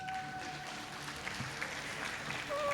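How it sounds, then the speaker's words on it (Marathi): Applause from an audience at an Atal Mahakumbh event marking Atal Bihari Vajpayee's birth anniversary, welcoming a guest: steady, dense clapping that fills the space and swells near the end, with brief tones over it. "एकदा जोरदार टाळ्या."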